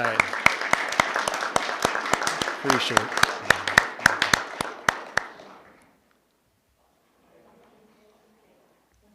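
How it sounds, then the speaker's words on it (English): Students are applauded at a school board meeting with a burst of distinct claps from a modest audience for about five seconds, then it cuts to near silence. A brief spoken thanks is heard over the clapping. "give them a round of applause"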